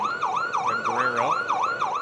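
A siren mounted on a Rivian truck wails at the start of the Pikes Peak hill climb, its tone sweeping up and down in quick, regular cycles, loud and close, with a low hum beneath.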